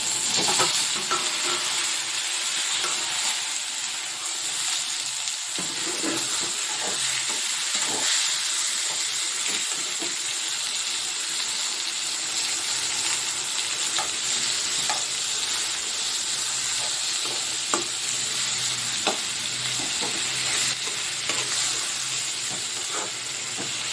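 Tomatoes fry with onions in a pan for a spicy chicken gravy, giving a constant sizzling hiss with light stirring clatter and an occasional sharper tap.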